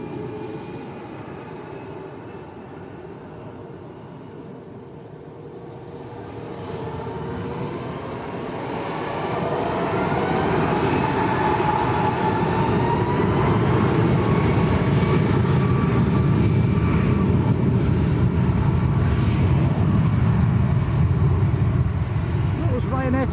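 A Ryanair airliner departing Lanzarote Arrecife Airport for Dublin, a distant engine rumble swelling into a loud sustained roar with faint whine, heard from a plane-spotting position.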